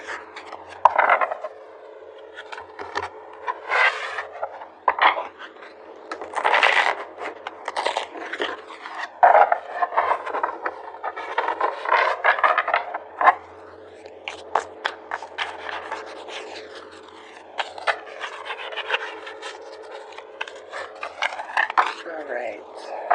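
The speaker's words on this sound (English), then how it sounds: "These cards did not want to shuffle." Tarot cards being shuffled by hand, with repeated papery riffles, rubs and scrapes coming in uneven bursts, close and fairly loud throughout.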